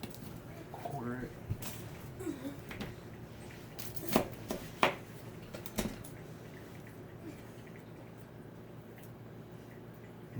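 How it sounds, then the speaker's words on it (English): Knife chopping a sweet yellow onion on a board, a few irregular sharp thuds and cuts near the mic with soft kitchen clatter, over quiet room background. "I said I was going to quarter this onion."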